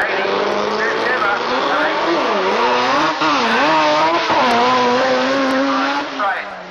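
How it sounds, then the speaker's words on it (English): A drag race car tears down the strip at Ravenswood Raceway in 1999, its loud, high-revving engine wailing and dipping in pitch through the run while a commentator talks over it. "Jerry Stacey about to run down track."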